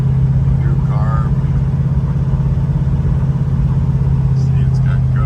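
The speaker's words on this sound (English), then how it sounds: "We're out driving our Dodge Challenger. Goes down the road really nice." A 1972 Dodge Charger with a new motor and new carburetor cruising down the road at around 55 to 60 mph, its steady low engine drone holding constant throughout beneath a talking voice.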